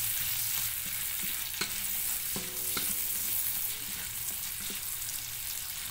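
White onions, cut in fairly large pieces, sizzle steadily in a hot pan, a continuous close frying hiss with occasional stirring clicks and scrapes, no voices.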